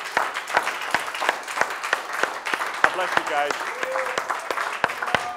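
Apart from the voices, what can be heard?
congregation hand clapping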